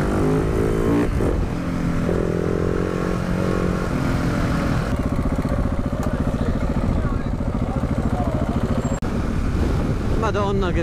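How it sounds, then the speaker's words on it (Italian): Loud, steady wind roar buffeting the microphone while riding a KTM 690 motorcycle, engine running underneath, continuous throughout with some muffled talking. "Madonna che vento!"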